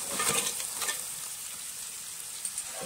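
Cleaned crabs going into a pan of frying tomato masala, a soft, steady sizzle with a few brief louder bursts of stirring near the start, fairly quiet overall.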